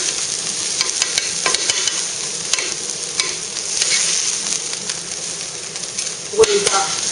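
Monjayaki batter with mentaiko fries on a hot iron griddle in a Tsukishima, Tokyo shop, giving a dense, continuous close sizzle with light scraping and tapping from a spatula, one louder clack near the end.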